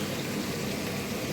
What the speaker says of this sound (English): The noise you can hear is the fan, by the way.